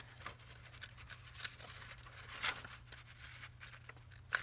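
Scissors snip carefully around a small paper window in a junk journal page, producing faint, intermittent cutting clicks and rustles at close range, with a couple of sharper snips standing out.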